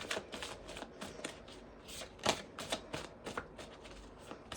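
Tarot cards are shuffled by hand in quick, uneven bursts of crisp riffling and slapping, close and moderately loud, continuing for several seconds with no talking.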